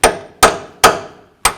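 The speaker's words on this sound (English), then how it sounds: "Now I'll just take a punch and a hammer and just tap it out the rest of the way." Four sharp metallic hammer strikes on a punch driving out an upper control arm bolt on a 2000-2006 Chevy Tahoe, evenly spaced and ringing briefly, close and alone.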